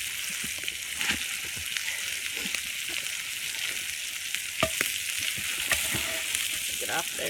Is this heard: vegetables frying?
yes